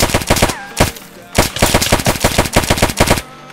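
Rapid automatic gunfire from a Free Fire match recreated in Minecraft, loud close bursts of rattling shots broken by brief pauses, heard alone without talk.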